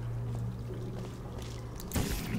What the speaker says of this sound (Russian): Йоу, какие тут водопады.